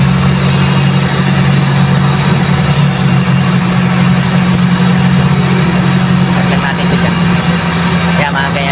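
A Toyota 4AF carburetor engine idles steadily with a loud, continuous low hum as its RPM is adjusted, the pitch easing slightly over time; no one speaks.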